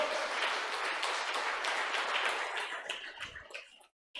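Church congregation at a Baptist service applauding the Lord, a dense sustained wash of many hands clapping that gradually thins and fades out, ending in a brief silence.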